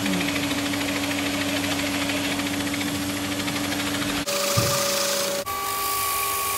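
A drill bores a thumb hole in a urethane bowling ball, a steady whirring grind that holds for several seconds, then cuts off and gives way to a higher, quieter motor tone.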